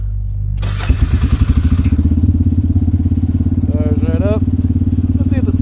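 A four-wheel-drive vehicle bought from an online marketplace cranks and starts, then settles into a loud, close, steady rough idle with rapid putting pulses, and a voice speaks briefly over it.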